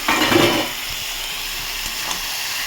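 Beans and eggplant go into a hot pan with spices, giving a brief loud sizzle and stir at the start that settles into a quieter steady hiss of frying.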